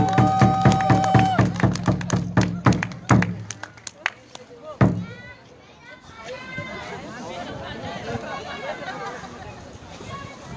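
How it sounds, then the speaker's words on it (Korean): Crowd at a Gimcheon candlelight rally cheering and clapping: a sung or amplified passage breaks off with a few thuds, then a dense wash of voices, shouts and whistles carries on at moderate level. "우리 여러분의 힘찬 함성과 박수가 필요할 것 같습니다."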